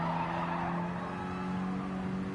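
Tires squealing as a Mini Cooper racing car brakes hard into a near-hairpin bend, a steady, sustained screech over the engine drone, heard up close with no talking.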